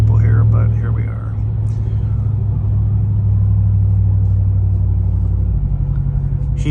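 A truck fitted with a Rough Country exhaust gives a deep, steady low rumble while moving slowly in city traffic, with a short stretch of talk over it at the start.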